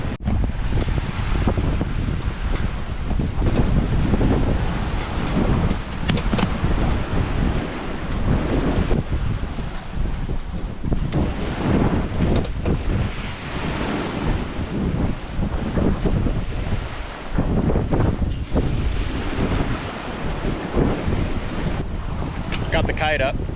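Steady wind and breaking waves around a solo sailboat crossing the Pacific in about 10 knots of breeze, heard as a continuous rushing and buffeting roar with wind noise on the microphone throughout.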